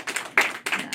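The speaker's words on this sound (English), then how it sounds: "You can clap." A small comedy club audience claps briefly after a stand-up joke, a few quiet, scattered bursts of hand claps rising and fading within a second.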